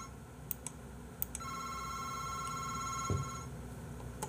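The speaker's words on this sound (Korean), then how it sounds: "전화." A telephone in a horror video game rings with a steady electronic trill that holds for about two seconds and then stops, set against a faint quiet hum, with a soft thump near the end.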